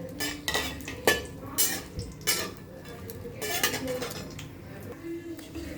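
Fox nuts and cashews are roasted in a pan for garnish, with repeated scraping, clinking and rattling of a spoon against metal over a faint sizzle, close and moderately loud.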